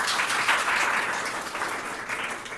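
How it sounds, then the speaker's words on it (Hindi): An audience gives loud, dense applause at a ceremony honoring a student's BSF selection. Many hands clap in a steady, continuous burst close by. "एक बार इनके लिए जोरदार तालियां।"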